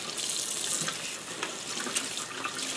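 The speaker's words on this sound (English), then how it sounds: "I just keep squeezing until the water starts to kind of run a little bit clear here" Tap water runs continuously into a sink while freshly dyed tie-dye fabric is squeezed and rinsed, a steady close splashing hiss with small irregular spatters throughout.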